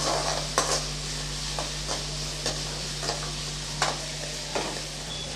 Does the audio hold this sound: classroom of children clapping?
no